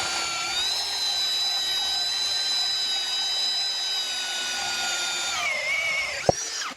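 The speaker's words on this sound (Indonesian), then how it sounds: "Modenya mode drill. Oke, 19 mili speed high." A Skoota 16.8V cordless drill on high speed boring a 19 mm hole, a loud steady whining motor with a ringing tone held for about five seconds, then pitching down as the bit breaks through, ending with a sharp knock.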